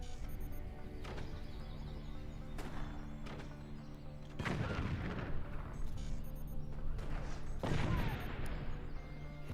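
Snipers trade fire in the Forts RTS game, with a handful of sharp, booming shots and heavier impacts spaced a few seconds apart over a constant, dense background din.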